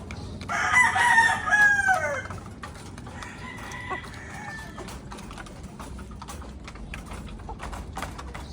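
Heavy rain patters steadily on a leaking tent, with scattered sharper drips landing nearby inside over a constant hiss, on Koh Rong, Cambodia.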